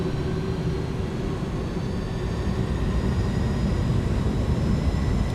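iniBuilds A310 jet engines at takeoff power in Microsoft Flight Simulator produce a loud, continuous roar with a steady whine on top, unbroken for the whole stretch.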